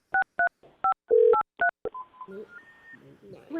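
Seven short, evenly spaced dual-tone telephone keypad beeps, one held longer than the rest, followed by a faint dial tone and people talking in a meeting room.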